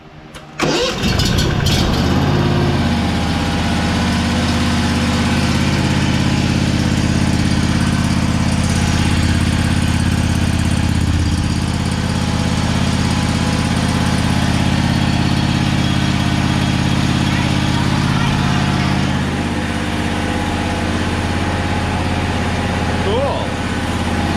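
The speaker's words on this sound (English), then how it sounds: "Let's start her up and hear her run." A Kawasaki FH770D-KAI small engine fitted with a new muffler cranks and catches, then runs loud and steady at close range for over twenty seconds without talk.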